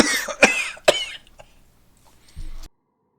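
A voice imitates coughing, two sharp, harsh cough sounds in quick succession, followed by a brief low rumble.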